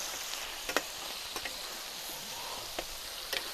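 Tomato sofrito sizzles steadily in a paella pan for rossejat rice, a soft continuous frying hiss with a few faint clicks and no talk.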